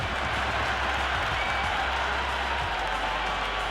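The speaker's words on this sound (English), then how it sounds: "The spectators are absolutely buzzing right now. Huge levels of excitement all round this ground." Stadium crowd in the Cricket 26 video game roaring and buzzing with excitement after a big hit flies into the stands, a steady dense wash of cheering and clapping throughout with a low rumble beneath.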